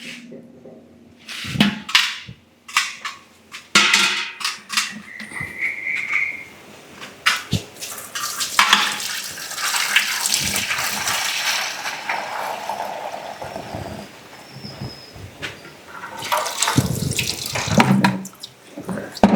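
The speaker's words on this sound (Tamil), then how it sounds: "தண்ணி ஊற்றிடுறா" Water is poured into a container, with intermittent splashing and gurgling alongside clunks and handling noises nearby, the flow rising and falling in bursts.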